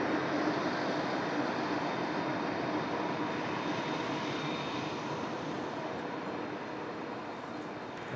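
A Boeing 787 airliner exiting the runway at Toronto Pearson airport gives a steady, broad roar that holds constant throughout and eases slightly toward the end, with no talk.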